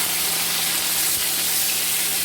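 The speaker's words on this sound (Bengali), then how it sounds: "টমেটোটা হালকা একটু ভেজে নেব।" Tomato frying in hot mustard oil with cumin seeds, dried red chillies and leaves in the pan, giving a steady, close, loud sizzle and hiss that holds evenly throughout with no talking.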